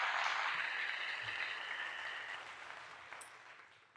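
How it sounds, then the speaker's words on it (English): A fairly faint patch of applause from a group, a soft continuous wash that slowly fades out over a few seconds with no talk. "Round of applause for that one more time."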